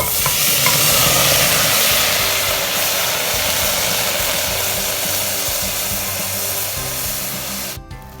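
Vegetable soup stock dissolving in a pot on the stove, a loud, close, continuous bubbling hiss with stirring that holds steady before cutting off near the end, no voices.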